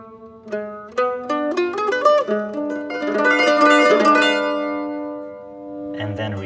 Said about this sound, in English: And on the mandolin, it would sound like this.